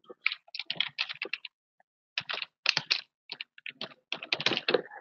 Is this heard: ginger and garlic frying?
no